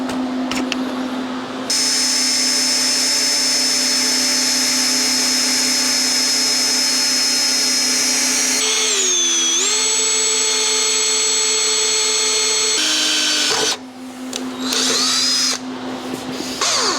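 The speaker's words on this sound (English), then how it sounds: "now it's time to drill some holes." A power drill whines at a steady pitch close by, dipping in tone as the bit bites into metal on a 1981 Harley-Davidson XLH chopper, with a short pause near the end before spinning again.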